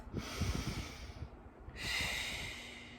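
Slow, deep breathing during a beginner Pilates exercise: a long, soft airy inhale followed by a breathy exhale, close and quiet, with no speech.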